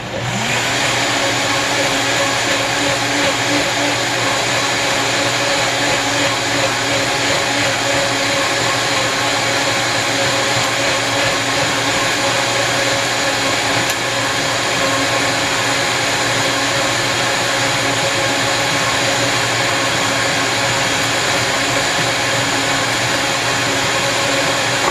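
A countertop blender runs continuously at full speed making a coconut shake, a steady loud whirring whine with no breaks, close by.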